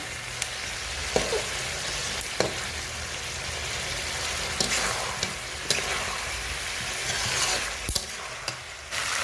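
Desi chicken pieces and pre-fried potatoes frying together in oil for a thin red curry, a dense continuous loud sizzle close by, broken by occasional spatula knocks against the pot, no voices.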